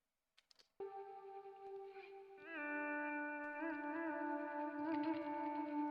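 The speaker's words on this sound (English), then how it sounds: "we've got a stereo pedal steel guitar part," A stereo pedal steel guitar part with auto pan rings out in long, gliding sustained notes with gentle pitch bends, soft and smooth, alone without talk.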